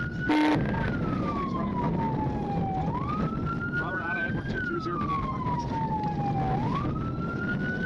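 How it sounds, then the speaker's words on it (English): A police siren wails during a high-speed chase, sweeping slowly up and down, loud and continuous over rumbling traffic noise, with a short sharp burst at the start. "the sirens blared and a high-speed chase erupted"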